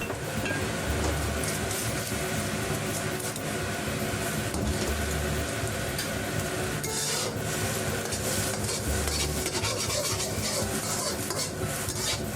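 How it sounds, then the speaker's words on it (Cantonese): Scrambled eggs are stirred in a wok over low heat, giving a continuous scraping and rubbing of a utensil against the pan with occasional soft knocks, close and steady. "隨住慢火咁慢慢煮嘅時候呢，你就會發覺越嚟越唔黐嘅隻鑊噶啦"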